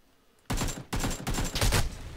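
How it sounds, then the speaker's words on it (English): Three rapid bursts of gunfire crackle in a PUBG video game match, each a sharp clustered volley after a quiet moment, moderately loud against faint background ambience. "Being shot at."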